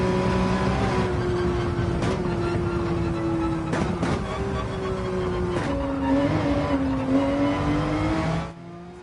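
A race car in the video game Gran Turismo 7 on a flat-out hot lap, its engine droning loudly with a steady high whine that rises and falls through gear shifts and braking before cutting away abruptly.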